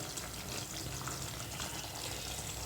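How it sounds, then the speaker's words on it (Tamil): Papad curry (appalam kuzhambu) simmering in a pan on a switched-off stove, a steady close, soft bubbling and sizzling hiss that carries on evenly throughout. "ஆஃப் பண்ணாலும் அது கொஞ்சம் நேரத்துக்கு கொதிச்சுட்டே தான் இருக்கும்."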